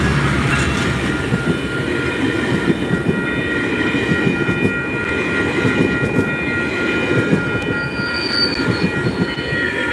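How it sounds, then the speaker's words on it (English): A train rolls past on railroad tracks, loud and close, with a continuous heavy rumble of wheels and rattling cars and a high metallic squeal of wheels on rail near the end. "This is the fucking train."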